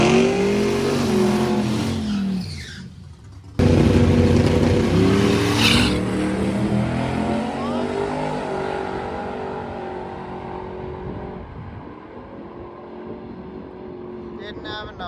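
A race truck with an engine rebuilt in the parking lot roars loudly during a shootout at Rocky Mountain race week. The engine note climbs and shifts through gears, cuts out abruptly, then surges back and fades as it pulls away.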